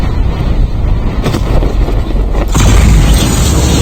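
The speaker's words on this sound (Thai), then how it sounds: "ยานผมระเบิดอยู่ตรงนั้นนะฮะ" A vehicle explodes in the Call of Duty Mobile video game, a loud booming blast with a heavy low rumble that swells across the whole short clip, followed by a roaring surge of noise.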